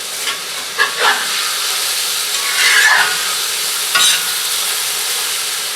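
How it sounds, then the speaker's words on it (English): Korean-style BBQ meat stir-fried in a cast iron wok on a wood cookstove, with a steady loud sizzle and several sharp metal spatula scrapes against the iron, one longer scrape mid-way. "I know some of you people who are annoyed by scraping are going to be annoyed by this"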